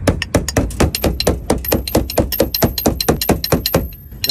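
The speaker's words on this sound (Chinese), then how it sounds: "用这个扳手敲一下油箱底部，" A tire wrench knocks against the underside of a car's fuel tank in a steady run of roughly sixteen sharp, close metallic strikes at an even, quick rhythm, with no talk.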